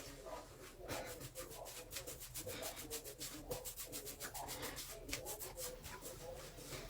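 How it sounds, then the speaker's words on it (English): Hands rub oil into hair with a close, steady soft friction sound that carries on throughout, with no talking. "I just rub it into my hair."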